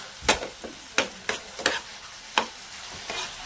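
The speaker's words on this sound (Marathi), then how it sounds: "तेल सुटेपर्यंत आहे ना चांगलं असं भाजून घ्यायचं." Masala paste of green puree for an egg curry fries in oil in a pan, heard as a soft sizzle under a series of irregular, crisp spoon clacks and scrapes from stirring.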